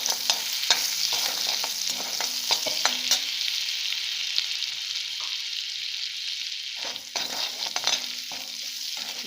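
Butter fries and sizzles in a pan in which food has just been golden-fried. A steady close hiss runs throughout, broken by scraping stirs and taps, with no talking.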